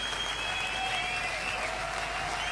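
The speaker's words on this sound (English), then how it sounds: "they're already cheering" A demoscene party crowd claps and cheers in a big hall, a steady dense wall of applause with whistles running the whole time, fairly loud and continuous.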